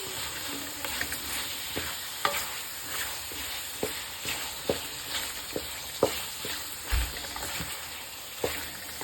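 Three or four medium potatoes fry with chicken in a pan, giving a steady hissing sizzle broken by regular scrapes and knocks from a stirring spoon.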